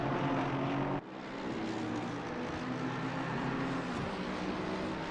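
Race car engine roaring steadily around the Nordschleife in a racing video game, loud and continuous, with a brief dip before the drone resumes, and no talking.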